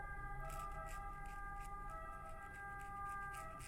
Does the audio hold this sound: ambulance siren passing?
yes